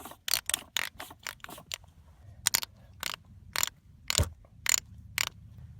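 Clicks and scrapes from a Harbor Freight Icon torque wrench mechanism that is not releasing properly, heard as a dozen or so sharp close ratcheting clicks in irregular bursts with quiet gaps between them and no talk.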